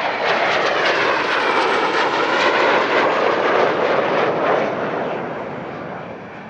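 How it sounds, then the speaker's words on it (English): Alpha Jet jet aircraft performing aerobatic rolls at an airshow, a loud continuous jet roar close overhead that holds steady and then fades slightly at the end. "the Alpha Jet has exceptional performance in roll"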